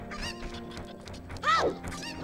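A chicken in the Zelda: Ocarina of Time video game gives a loud, sharp squawking cluck midway, over quieter game sounds and soft bird noises.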